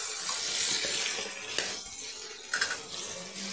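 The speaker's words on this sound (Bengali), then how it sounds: "আলু আর পটল যে আমি একসাথে ভাজছিলাম বেশ ভালো রকম ভাজা হয়ে গেছে।" Potato and pointed gourd pieces fry together in a pan with turmeric, giving a constant hissing sizzle broken by a few sharper scrapes and clinks of a spatula against the metal.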